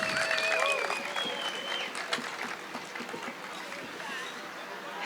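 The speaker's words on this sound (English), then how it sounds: "Let's give a warm round of applause for Gannet Nuguse." Audience applause at an Ethiopian community event in Alexandria, Virginia, a dense wash of clapping from a crowd that stays steady for about five seconds, with a few voices mixed in.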